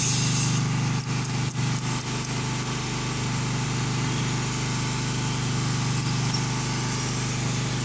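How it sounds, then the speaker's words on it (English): A generator engine running close by at a metal-frame worksite, a steady loud droning hum with a constant buzzing rasp that holds unchanged throughout, with a few brief knocks near the start. "Sasa generator itabaki hapa."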